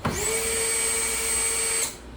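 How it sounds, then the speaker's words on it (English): A Harbor Freight power drill spins up and whines at a steady high pitch for almost two seconds while backing out a T30 star screw on a car headlight, then winds down abruptly, close and loud with no talk. "And a Harbor Freight drill."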